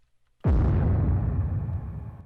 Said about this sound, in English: That kind of sounds like a bomb now, like a really cool just explosion sound.